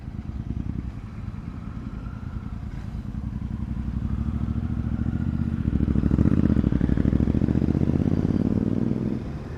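A motorcycle engine fitted with a Rhino exhaust rumbles nearby, its low throbbing beat building gradually in loudness before easing slightly at the end.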